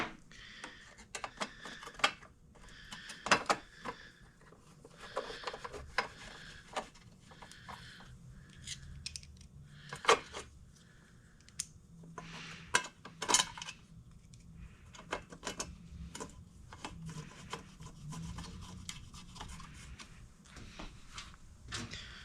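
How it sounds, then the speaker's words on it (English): Screws being fitted back into a Stella scooter during a rebuild, with scattered small metallic clicks, taps and scraping handling noises, close and fairly quiet with gaps between them. "And then just put the screws back in."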